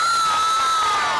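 A studio audience cheers and applauds for a competition winner on a Bihar TV show, a brief, dense burst of crowd noise with no talking over it.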